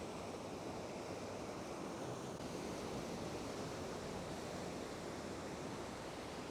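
Heavy ocean surf breaks and churns continuously on a beach as a nor'easter blows in, a dense, steady roar of waves and wind with no voices.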